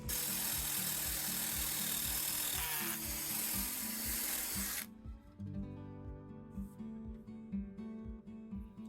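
A wire tool scrapes back and forth across wood to distress it, a harsh, close, rhythmic rasping that stops partway through, leaving a quieter tail.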